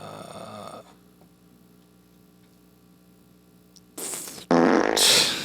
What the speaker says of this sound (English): The fart machine.